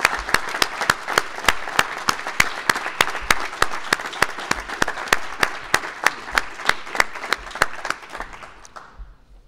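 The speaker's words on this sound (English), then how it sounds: "let's give them a round of applause." Sustained audience applause honoring students of a science internship program, dense steady clapping from a crowd with sharp individual claps standing out, continuing for about nine seconds before fading out.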